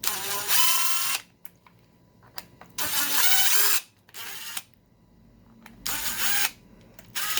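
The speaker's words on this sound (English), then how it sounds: "This is way too much driver for this project, but I'm just taking them apart, and it makes it pretty fast." Oversized power screwdriver backing screws out of a compartment, three loud whirring bursts of about a second each separated by quiet gaps with small clicks and handling noises.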